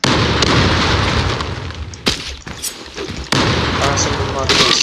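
Heavy booming blasts from a bomb in the online shooter Zula, a loud explosion then further bursts and crackles, with a voice talking over the din.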